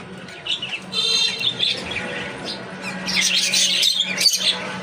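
A pet bird squawks and chirps loudly up close, with harsh bursts and flapping as it scuffles with other birds in the cage.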